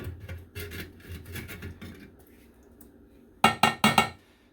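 A long screwdriver scrapes at buildup on a sink drain crossbar, giving a series of gritty rasping strokes followed by three sharp metallic scrapes close by at the end.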